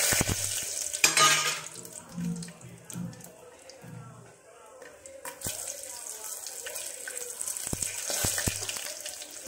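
Cumin, bay leaf, peanuts, green chillies and cinnamon fry in a pan for masala rice, with stirring and soft sizzling, a few clatters and intermittent louder bursts of frying noise.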